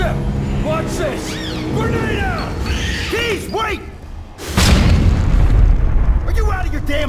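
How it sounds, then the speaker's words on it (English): A grenade blast in the 2013 shooter game Aliens: Colonial Marines hits as a sudden loud boom partway through, followed by a sustained roaring rumble, after a stretch of game voices and sci-fi effects. "Grenade out!"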